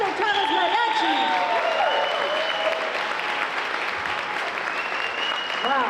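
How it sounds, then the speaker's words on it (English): An audience at the Stockton Unified School District State of the District event gives a sustained round of applause for the Cesar Chavez Mariachi, loud and even throughout, with a few whoops and voices above the clapping. "Another round of applause for our Cesar Chavez Mariachi."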